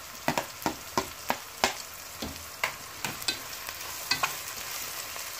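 Ginger, garlic and tomato fry in hot oil in a pan for a Bangladeshi shutki bhuna, a steady sizzle broken by a regular series of sharp spoon scrapes and stirs, close and moderately loud, with no talking.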